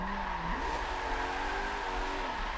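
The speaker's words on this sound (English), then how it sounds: "It's drifting actually very well." A car drifting in the Forza 7 video game with a steady, loud tire squeal over a droning engine, the pitch rising and holding throughout.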